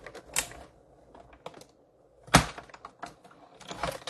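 Paper trimmer cutting through cardstock, with scattered close clicks and taps and one sharp loud snap or slide near the middle, then more quick handling sounds.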